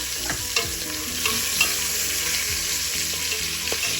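Minced garlic frying in oil alongside browned oxtail for estofado, a steady close sizzle with repeated stirring scrapes and light clinks of a utensil throughout.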